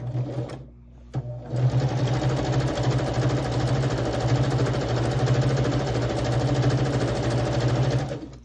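A sewing machine with a quarter-inch foot runs steadily, stitching patchwork quilt pieces; after a brief pause near the start, the close, loud motor drone and rapid needle chatter continue unbroken to the end, with no talking.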